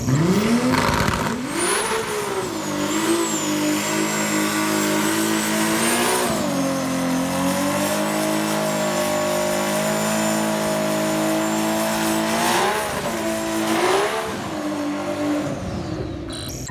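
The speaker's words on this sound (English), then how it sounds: "And then the rear wheel drive burnout behind the shop, yeah, cut to that too." A Subaru WRX with a swapped Skyline GT-R engine does a rear-wheel-drive burnout behind a shop, the engine revving loud and sustained with rising and falling pitch and a high tire squeal running over it throughout.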